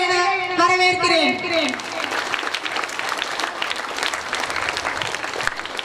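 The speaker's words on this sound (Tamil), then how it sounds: "பலத்த கரகோஷத்தையோடு வருக வருக என வரவேற்கிறேன்" A voice speaks over a musical tone at first, then a large audience breaks into dense, sustained applause.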